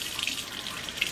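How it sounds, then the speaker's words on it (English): Lukewarm tap water runs steadily from a faucet over bundles of hair in a sink, a soft continuous splashing hiss with no talk. "run this under like lukewarm water."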